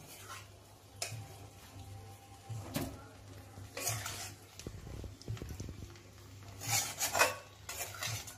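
Cooked chicken gets stirred into pulao rice for chicken tehari, with scraping and rasping of a spoon against the pot, soft clinks and rustling rice, fairly quiet and close over a low hum.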